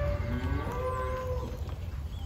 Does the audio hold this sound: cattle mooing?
yes